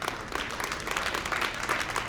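An audience applauds a speaker at a real estate talk, a steady wash of many hands clapping at moderate level, continuous and fairly dense with no pauses throughout.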